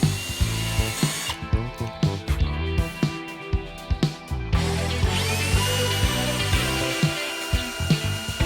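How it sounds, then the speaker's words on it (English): A power drill whirs in repeated bursts, its bit biting into hard metal with sharp knocks and pauses between runs; no one speaks. "we're just gonna try taking a drill bit straight to these"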